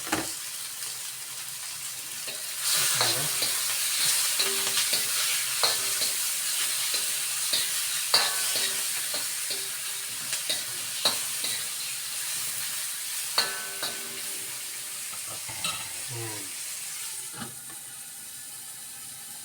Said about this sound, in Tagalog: Pwede na natin ilagay yung mga chopped chicken natin.